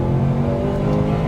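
A Mitsubishi Lancer Evo VIII engine revs hard under acceleration with a rising steady drone, a brief close continuous burst with no talk.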